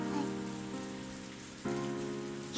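Rain falls in the visual novel game ONE: Kagayaku Kisetsu e, a quiet, even patter on surfaces that runs steadily beneath soft sustained musical tones and rises slightly partway through.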